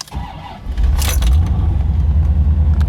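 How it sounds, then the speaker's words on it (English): A C4 Chevrolet Corvette sports coupe engine cranks briefly and catches, rising into a deep, loud rumbling idle that continues steadily; a light jingle of keys sounds near the start. "Now, the car starts right up."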